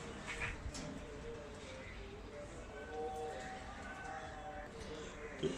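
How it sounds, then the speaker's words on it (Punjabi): Domestic pigeons at a pigeon club loft coo softly and repeatedly in the background while someone talks over them close by. "ਤੇ ਆਹ ਕਬੂਤਰ ਆ ਜੀ"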